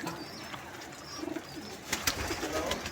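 A racing pigeon comes down onto its loft and gives a few soft, low coos, faint among light flapping and rustling.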